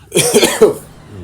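A single short cough followed by a brief throat clear, close and fairly loud, with nothing else heard.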